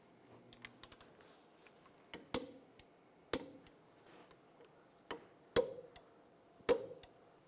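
A torque wrench clicks sharply while tightening hub assembly bolts on a 2004–2009 Toyota Prius during wheel bearing replacement: several distinct, evenly spaced clicks, close and crisp, separated by quiet pauses with a few fainter handling taps between.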